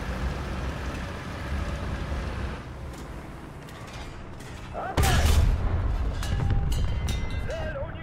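Booming 122mm proximity-fused anti-aircraft rounds in War Thunder, loudest after the midpoint, heavy low thuds over steady rumbling battle noise, with a voice talking throughout.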